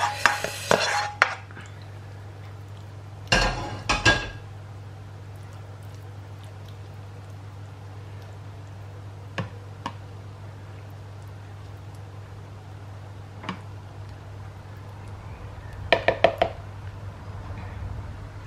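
A utensil scrapes and clanks against a pan while sauce from a vegetable and mince bake is cleared out, in scattered bursts of metallic clinks with quiet gaps between, close and without talk.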